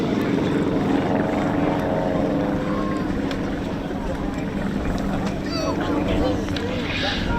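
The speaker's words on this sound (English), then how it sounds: "the three aircraft left in the main formation, running in for a break" Display team aircraft fly in formation over the East Kirkby airshow, a loud, steady propeller drone throughout, with a commentator talking over it.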